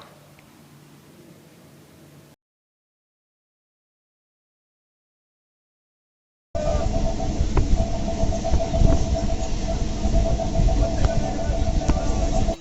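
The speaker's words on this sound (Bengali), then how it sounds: "কলকাতা থেকে ক্যানিং লোকাল ধরে আমাদের যেতে হয়েছিল সুন্দরবনে তো আমাদের ট্রেন চলে এসেছিলো" A Canning local train from Kolkata arrives at a station: after a quiet stretch and a gap of silence, a loud, steady rumble of rolling wheels and carriages starts and continues close by.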